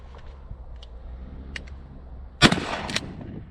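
A Remington 870 shotgun with Magpul furniture fires one loud, sharp blast near the microphone, followed by a short echoing tail over quiet outdoor background.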